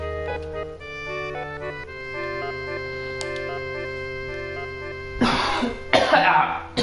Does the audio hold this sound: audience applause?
no